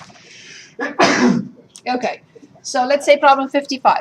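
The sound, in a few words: a person sneezing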